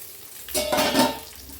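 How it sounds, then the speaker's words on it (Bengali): Eggplant pieces frying in a pan and being stirred, with a short burst of hissy sizzle and soft scraping that swells and fades over a second or so, close by. "বেগুনটা ভাজা হয়ে গেছে,"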